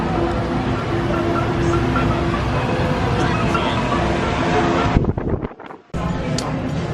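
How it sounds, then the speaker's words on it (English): The Wildlife Express train pulls into the station at Rafiki's Planet Watch in Disney's Animal Kingdom with a loud, steady rumble close by that briefly dips near the end. "here is the train coming in"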